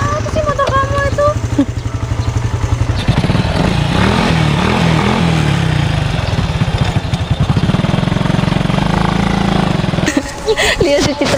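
An old, worn Honda Supra clutch-shifted motorcycle running loudly close by, with a rough throbbing engine note that revs and changes pitch while people talk over it.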